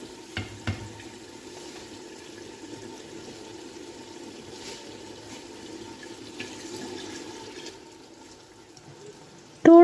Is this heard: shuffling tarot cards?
no